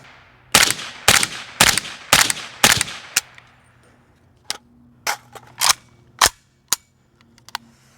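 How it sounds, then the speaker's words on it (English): A PSA 300 Blackout KRINK rifle fired on iron sights outdoors: five sharp, loud shots in quick rhythm, a pause, then another six spaced shots, each cracking cleanly with a brief decaying tail. "Why don't we shoot a little bit with irons?"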